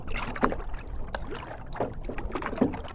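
A kayak paddled across Merritts Mill Pond in Florida with the wind behind it. Paddle strokes dip and splash at a few seconds' spacing over soft wind and water noise.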